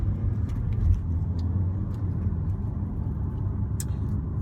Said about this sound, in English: there's a very large articulated lorry coming, and he was going a bit swifter than I thought he was